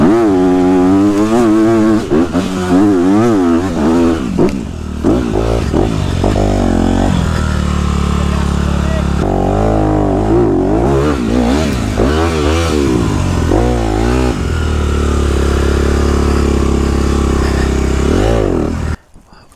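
An enduro motorcycle on a steep quarry hill climb, its engine loud and close, revving hard with rising and falling pitch and bursts of throttle, then cutting out abruptly at the end.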